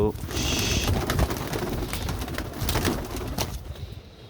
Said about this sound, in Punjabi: ਕਬੂਤਰ ਲਈਏ ਸਾਰੇ ਜਾਲ 'ਚ ਪਾ ਲਓ